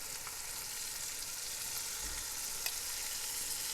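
Marinated chicken fries with spices in a pot for chicken pulao, making a steady, even sizzle with a soft stirring thump partway through.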